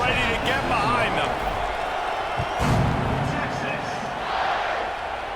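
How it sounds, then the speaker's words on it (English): Stadium crowd at a college football game between Texas and Mizzou, a broad steady roar building as the kickoff approaches, with an announcer talking over it. "They're set to kick it off, and this crowd now ready to get behind them."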